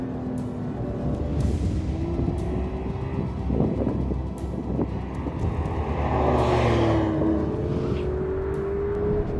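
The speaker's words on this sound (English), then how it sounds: "It's just me and a sports car on a racetrack" A 2025 Porsche 911 Carrera sports car drives on a racetrack, its engine note rising and falling through gear changes under steady wind buffeting, loud and close from start to finish with no talk.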